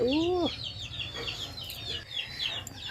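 Many chicks of a native village hen cheep in high, rapid peeps, and a hen clucks low at the start, close and continuous.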